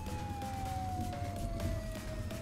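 An emergency vehicle siren in the Flashing Lights game: a steady, slowly falling wail, fairly faint and continuous over low engine rumble and road noise.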